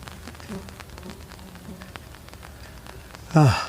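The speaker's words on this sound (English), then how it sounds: "It sounds like rain's falling on the on the on the tarp, but it's actually just the black flies bouncing off" Soft, irregular patter like light rain drumming on a tarp, actually black flies bouncing off it at a campsite, with faint background noise and a brief louder tone near the end.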